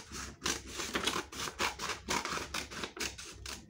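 Scissors cut out paper letters in a series of rhythmic snipping and rasping strokes, roughly two per second, close and fairly loud with no voices.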